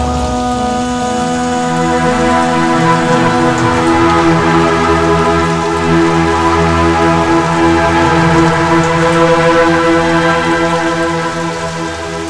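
Steady, loud rain pours continuously, a dense wash of falling water with low rumbling underneath that suggests distant thunder, no voices, the downpour fading slightly at the very end.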